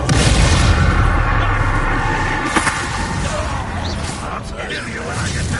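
A Bombarda spell explodes in the video game Hogwarts Legacy: a loud, deep rumbling blast over dense game sound, with a brief sharp crack partway through and a sustained low roar.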